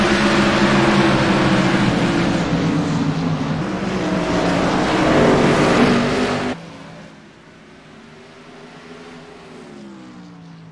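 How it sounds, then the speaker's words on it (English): Race cars roar in short track racing, a loud, sustained multi-engine drone with rising and falling pitch for several seconds, then the level drops sharply and engines continue more faintly in the distance. "Cars are too loud."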